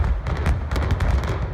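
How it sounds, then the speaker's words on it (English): Explosive demolition of Martin Tower in the Lehigh Valley, a loud rumbling burst of blasts with cracking bangs rolling over a short stretch, heard from a distance. "the historic demolition of a Lehigh Valley icon Sunday morning received a lot of camera time recently"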